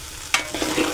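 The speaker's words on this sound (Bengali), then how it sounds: "তো আমি তেজপাতা দিয়ে দিচ্ছি, নেড়ে দিচ্ছি ভালো করে" Bay leaves are stirred in a hot pot of oil for pulao, giving a brief spoon scrape followed by soft sizzling and frying, close up and without speech.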